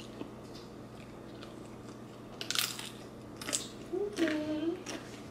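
Crunchy turkey bacon bitten and chewed, a few brittle crisp crunches near the mic over a steady background hum, with a voice briefly heard.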